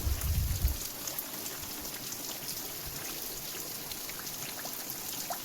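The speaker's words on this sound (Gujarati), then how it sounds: "સવારનો ચાલુ છે, રાત્રે પણ પડ્યો તો, હમણાં પણ ચાલુ જ છે।" Steady monsoon rain falls in a village with a soft, even hiss and scattered drops tapping nearby, after a brief low thump at the start.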